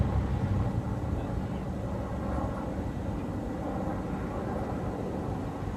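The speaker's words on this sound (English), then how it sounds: "That sounds like Medivac. Medical evacuation helicopter." An orange medical evacuation helicopter flies overhead at night, its low, steady rotor and engine rumble holding fairly constant for several seconds.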